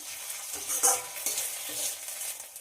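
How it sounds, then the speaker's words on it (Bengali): Ginger-garlic paste frying with browned onion in a pan, a close, moderate sizzle with several stirring scrapes of a spoon. "পেঁয়াজের সঙ্গে আদা রসুনটাকে খুব ভালো করে কষিয়ে নিতে হবে"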